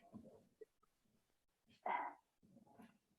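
A pet pup gives a brief, sharp yelp or bark in a quiet room, with faint snuffling and small whimpers around it.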